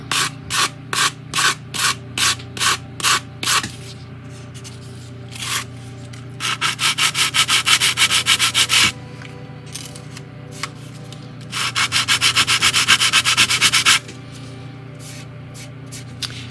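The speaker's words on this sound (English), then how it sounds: "you can see how when we sand it down, it's actually going to mold and it's going to be perfect" Wooden hull of a 1:100 scale ship model being hand-sanded: first a run of short, evenly spaced rasping strokes, then two longer stretches of rapid, continuous scrubbing, loud and close with pauses between.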